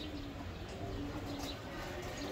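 A Giribaz tournament pigeon coos softly, low murmuring calls that repeat over a dense background hum, with faint chirps and a quiet voice in the distance.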